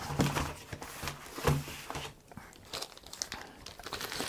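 Plastic wrapping crinkles and tears as it is pulled off a silver creator award, in a few loud bursts of rustling close by, then quieter handling.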